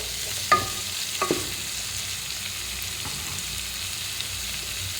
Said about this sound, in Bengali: তো দেখুন টমেটো, পেঁয়াজ, মশলা খুব সুন্দর ভাজা ভাজা হয়ে এসেছে